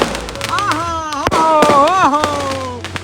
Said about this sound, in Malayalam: പടക്കങ്ങൾ പൊട്ടുന്നു